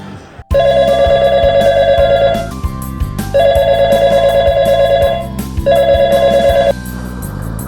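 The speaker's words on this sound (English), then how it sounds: "At that time, he heard his phone ringing." A telephone rings in three long bursts separated by short pauses, loud and close, playing over a steady musical background.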